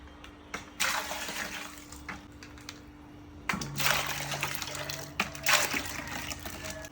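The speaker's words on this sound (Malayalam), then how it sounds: "ഈ നമുക്കിനി അതിലേക്ക് പാൽ ഒഴിച്ച് കൊടുക്കാം." Chilled milk poured onto finely chopped watermelon for an iftar sharbat, giving two bursts of liquid splashing and gurgling into a bowl, close and fairly soft, with no talking.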